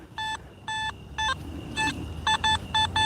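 A metal detector sweeping a large buried metal target at night gives a series of seven clear, evenly pitched electronic beeps in short bursts over a quiet outdoor background.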